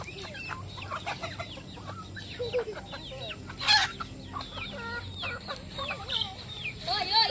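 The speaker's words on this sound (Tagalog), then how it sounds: "Tapos ito, nagpapakain sila ng mga pabo" Turkeys and chickens cluck and chatter at feeding time on a farm, a busy, continuous flock with overlapping calls and a louder squawk near the middle.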